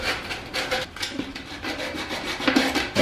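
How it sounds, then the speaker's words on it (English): 120 grit sandpaper rubs the rough cut edges of a pipe for a compost bin, making close, steady, rhythmic rasping strokes with no voices. "So I'm going to be using some 120 grit just to get rid of any rough edges around the sides."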